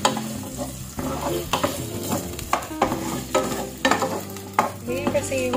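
Corned beef and potatoes sauté in a pan with a constant sizzle and frying crackle, broken up by repeated scraping and stirring knocks of a utensil against the pan, close and fairly loud.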